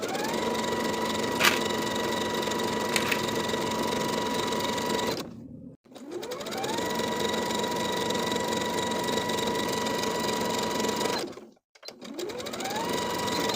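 Sewing machine or serger running seams on a pair of shorts, two long steady humming runs that ramp up in speed, each stopping briefly before restarting, loud and close.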